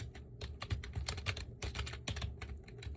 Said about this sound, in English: So I use the keyboard.